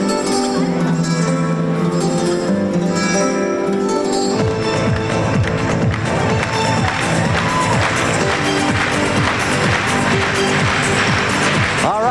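Arena crowd at the 1992 Albertville Olympic men's figure skating original program cheering and clapping loudly for French skater Nicolas Petorin, a dense, sustained roar that swells partway through and keeps going.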